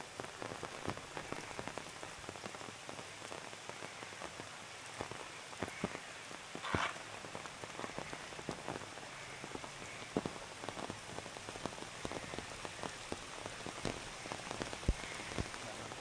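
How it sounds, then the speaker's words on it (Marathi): Heavy rain pours steadily in Malad, Mumbai, a dense, even hiss of drops striking surfaces close by with scattered sharper splashes throughout, no voices. "पाऊस जास्त पडतोय"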